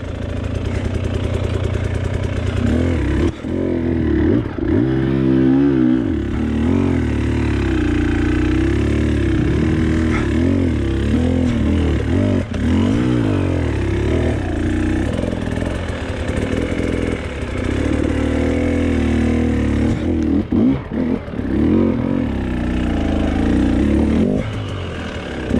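An enduro dirt bike engine revs hard and steadily through a rough hill climb over roots and rocks, loud and close throughout, with surges and dips as the throttle changes and no talking.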